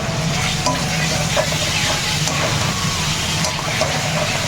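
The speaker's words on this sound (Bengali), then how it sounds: "ঠিক আছে, কষাতে থাকি, এইটা নেড়ে দে" Spicy chicken curry with onions being stirred and fried in a pan, giving a steady, close sizzle with scraping stir strokes throughout, no voices.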